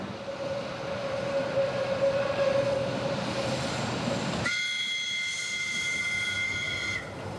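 A Circumetnea narrow-gauge train runs through Sicily with a steady rumble and a sustained tonal whine, then a loud two-tone horn blast sounds near the end.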